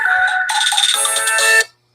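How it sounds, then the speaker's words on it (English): A mobile phone rings loudly and close with an incoming-call ringtone, a bright electronic melody that plays continuously for nearly two seconds before cutting off abruptly into silence. "That was my phone call."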